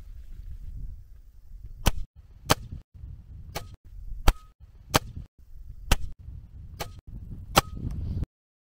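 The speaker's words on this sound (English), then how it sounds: "let's check their power and speed out of the barrel of my Crosman Summit Ranger NP2" A Crosman Summit Ranger NP2 air rifle fires .22 slugs. Eight sharp, close shots come at roughly even intervals, each one a crisp crack over a low background rumble.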